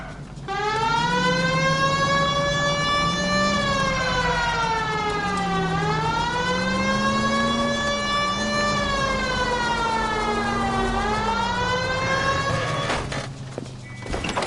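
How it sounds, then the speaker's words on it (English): Police car siren from the video game LA Noire, a loud wailing tone rising and falling in long sweeping cycles, steady throughout before cutting off near the end. "Hit the siren."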